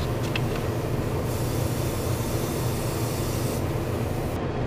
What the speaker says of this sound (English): and I can spray a little heavier